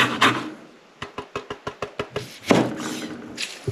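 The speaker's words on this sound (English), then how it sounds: "I think we need a new grater, this is rubbish." Watermelon and lemons are grated by hand on a worn grater, a quick run of about ten evenly spaced scraping strokes, close and dry, with a few heavier scrapes before and after.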